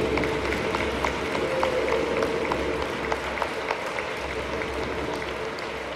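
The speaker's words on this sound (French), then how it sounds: "Voilà, on va les applaudir." An audience at a church service applauding a group of mothers: dense, continuous clapping from many hands in a reverberant hall, holding steady throughout.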